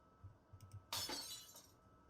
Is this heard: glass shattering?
yes